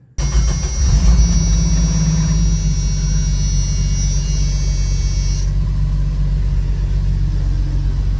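A Jeep YJ with a manual transmission idles in neutral at about 1,000 RPM, a steady, close, even engine rumble with a faint high whine that drops away partway through.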